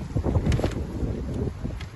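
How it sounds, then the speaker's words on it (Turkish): Gusty wind buffets the microphone outdoors at a yard sale in low rumbling bursts, with no one speaking. "Evet biraz rüzgar yine bugün devam ediyor"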